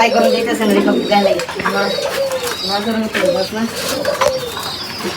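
Pigeons cooing in a busy flock, overlapping throaty coos repeating steadily and close by, with a person talking over them.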